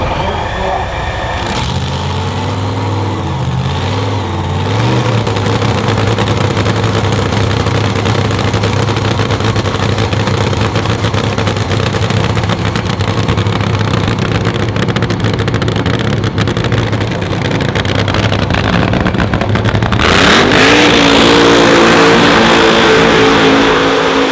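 A restored nostalgia funny car's engine runs loud and close, a rough steady roar that stays constant, then changes pitch and grows louder near the end as it revs harder.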